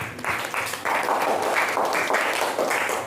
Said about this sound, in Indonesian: kasih tepuk tangan untuk kawan kalian